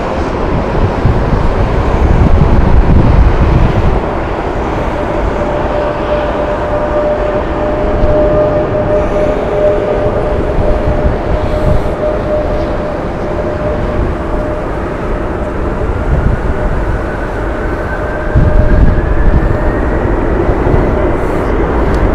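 Aircraft taxiing along a taxiway at Heathrow Airport, a loud continuous engine roar with a steady whine and slowly rising tone over about twenty seconds, no voices.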